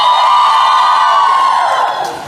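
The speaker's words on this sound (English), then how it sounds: "Let me hear how loud you can cheer for yourselves" A large crowd of girls at an event cheers loudly as one, with a sustained high-pitched roar of shouts and whoops that fades slightly toward the end.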